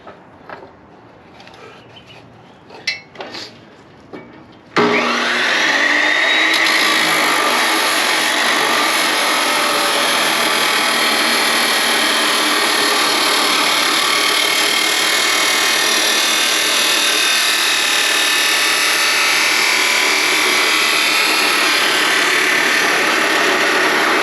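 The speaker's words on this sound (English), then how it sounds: "go chop it in the chop saw" Chop saw cutting steel tube for DIY rock sliders, a few quiet clicks and then the motor spinning up into a loud, sustained grinding roar that holds steady for about twenty seconds.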